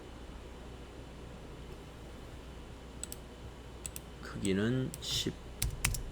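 A computer keyboard clicks during an Excel exercise, with soft typing and a few sharp key presses that come late, quiet and close, while a voice speaks briefly over them.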